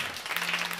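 Audience applause at a stage event, a short steady patter of many hands clapping, fairly loud and continuous.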